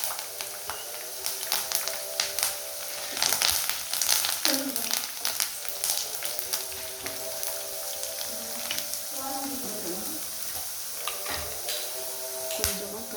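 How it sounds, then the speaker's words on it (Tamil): Spices and curry leaves sauté in hot oil for tamarind rice, a soft steady sizzle with scattered crackles and scraping clicks of a spatula, fairly quiet and close. "இதை நல்லா வதக்கிட்டு"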